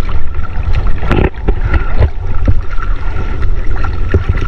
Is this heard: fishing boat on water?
yes